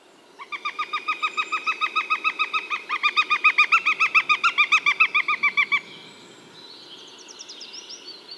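Repeated sharp, evenly pulsed calls of a bird of prey ring out loud and clear on a forest trail in Estrie, a long series of rapid notes that stops abruptly, followed by fainter distant chirps.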